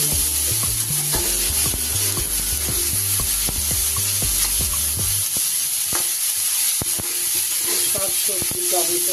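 Vegetables and tomato frying in a pan while being stirred: steady loud sizzle throughout, with repeated scraping strokes of a spatula, brisk and rhythmic at first, then sparser clinks and scrapes.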